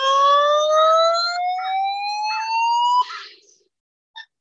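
Desmos audio trace sonifying a graph as a steady electronic tone that glides smoothly upward in pitch for about three seconds, then stops, followed by a brief short blip; clear and alone, no talking.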